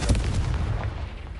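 A single Confringo explosive curse in Hogwarts Legacy combat lands as one sharp, loud blast that booms and rumbles as it decays.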